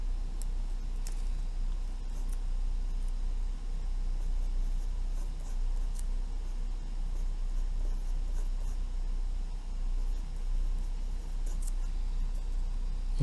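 Steady scratching of a pen or pencil on paper while a math solution for special angles and trigonometric ratios is written out by hand, close and continuous with small taps, under a constant low hum and no talking.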